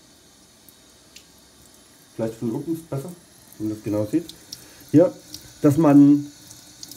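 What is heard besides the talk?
cold water poured over alfalfa sprouts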